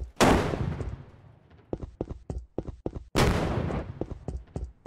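Gunfire in the video game Battlefield 2042: two loud, sharp blasts, each with a long rumbling decay, separated by a run of quicker, lighter cracking shots, all fairly close and with no talking.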